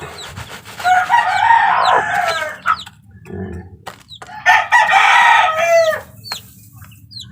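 A mother hen with her two-day-old chicks, heard close: repeated clucks, with bursts of high, chirping peeps in two clusters.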